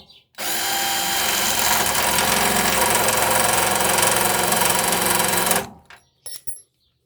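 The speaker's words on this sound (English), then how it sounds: "the drill bit is very blunt" A power drill with a blunt bit grinds steadily and loudly into metal for about five seconds, then stops, followed by a couple of brief mechanical clicks.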